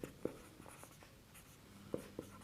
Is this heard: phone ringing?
no